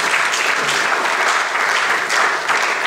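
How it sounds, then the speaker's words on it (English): Steady, dense applause from a sizable crowd at a graduate students' association event in Ghana, loud and continuous throughout with slight swells. "please give me a round of applause"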